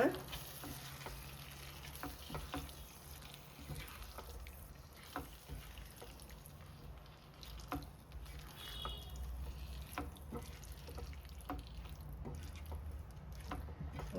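A pan of quail egg and potato fry seasoned with pepper powder is stirred as it cooks, with a soft continuous sizzle and occasional scrapes and clicks of the spoon, quiet and close.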